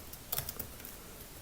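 Typing on a computer keyboard, a few quiet, quick key clicks in a short burst, close and faint with no talk.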